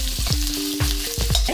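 Cumin and whole spices roasting in hot oil, a loud close sizzle with rhythmic spatula strokes scraping the pan about twice a second, no voices.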